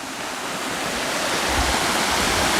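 Flowing water on the Falls Trail near the 37-foot Mohawk Falls in a Pennsylvania state park gives a steady, full broadband rush, constant and fairly loud with no voices.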